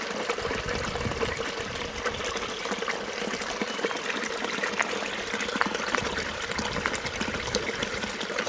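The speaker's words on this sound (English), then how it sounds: "That's the little waterfall." Steady rushing water from a small waterfall by a river, continuous and even throughout, with no voices.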